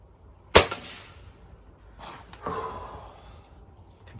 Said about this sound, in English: This gun, I feel like it's a very demanding gun to shoot.